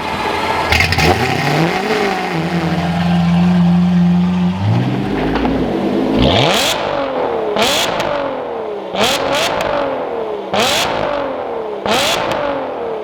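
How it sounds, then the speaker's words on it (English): A carbon-bodied Lamborghini Aventador with a GRP exhaust setup is started and revved, then blips loudly again and again in sharp, crisp bursts close by, each rising wail followed by crackles, no talk. "I want you guys to hear this exhaust with that GRP setup because it is so crisp"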